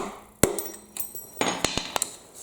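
Several sharp metallic taps ring out at irregular intervals, close by, a hammer striking a screwdriver during countershaft seal replacement on a Honda CRF450 motorcycle, with a light rattle between hits.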